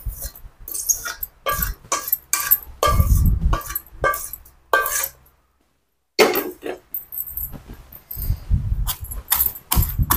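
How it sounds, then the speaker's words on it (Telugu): Dried red chillies and spices pounded in a stone mortar in a village kitchen: heavy, thudding strikes fall in steady runs, pause briefly, then carry on at a regular beat. "ఇది మెత్తగా పొడిలాగా దంచుకోవాలండి"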